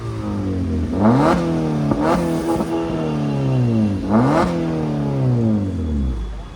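A 2023 Suzuki Swift fitted with a loud valvetronic exhaust revs repeatedly outside a shop, the engine rising in pitch in several sharp pulls and dropping back between them, close and loud, with no talk over it.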